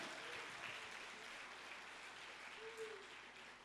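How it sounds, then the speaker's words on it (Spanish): A church congregation applauds during a family service, a faint, sustained patter of many hands clapping at a distance, holding steady before slowly tapering off. "O dale un aplauso a Jesús de Nazaret."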